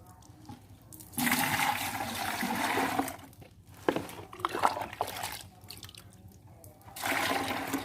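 Water scooped with a cup from a 20-litre bucket of homemade egg-hormone garden mix and poured back in, making repeated sloshing, splashing pours in bursts of a second or two, with quieter trickling between them.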